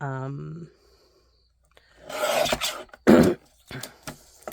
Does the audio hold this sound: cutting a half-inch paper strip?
yes